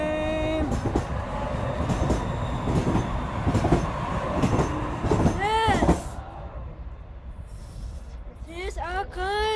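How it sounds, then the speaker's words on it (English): A Denver light rail train rumbles and clatters past with a steady rolling noise, then squealing wheel tones rise near its end; a voice speaks in the background. "Bye, train!"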